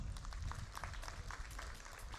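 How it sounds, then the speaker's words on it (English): Faint, steady audience applause at a national awards ceremony, a continuous patter of many hands clapping heard from a distance. "there should be more and more claps"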